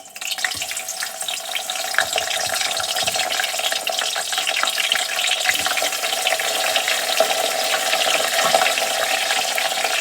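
Waffle fries frying in hot oil give a steady, dense crackling sizzle that fills the whole stretch, close and even, with a few soft low knocks of a metal spoon in the pan.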